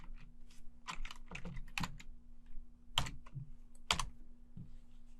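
Typing on a computer keyboard on a Server 2019 machine, a brisk uneven run of close clacking keystrokes over a faint steady hum, with no voices.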